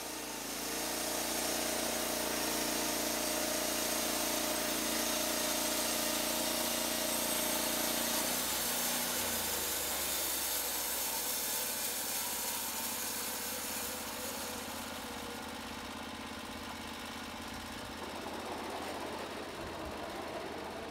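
Engine of a Norwood LumberPro HD36 portable band sawmill running, a steady loud high-pitched motor whine that shifts in tone partway through and settles into a slightly lower, rougher drone.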